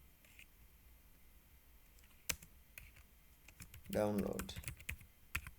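Clicky computer keyboard typing near a computer, mostly sparse taps with a quicker flurry near the end, while a person talks briefly.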